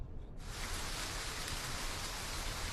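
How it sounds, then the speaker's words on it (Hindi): Steady cartoon rain sound effect, a dense broadband hiss of falling drops that starts abruptly after a brief quiet moment and then holds loud and even with no voices. "आज तो बारिश रुक ही नहीं रही।"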